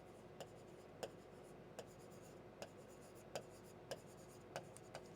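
A pen writing a heading on paper, with faint, quiet scratching strokes and about eight brief, evenly spaced ticks as letters are formed, close and alone.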